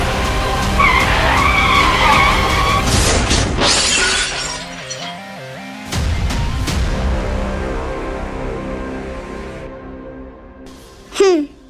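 A car whose brakes have failed skids in a long, loud tire squeal, then crashes with shattering glass, ending in a short sharp burst of noise.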